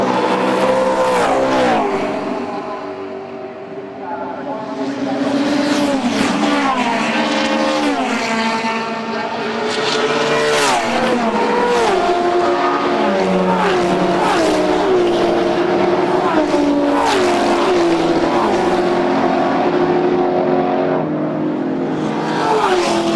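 Classic Mazda RX2 race cars scream past on the Phillip Island circuit, several rotary engines rising and falling in pitch through gear changes and a continuous loud, overlapping roar.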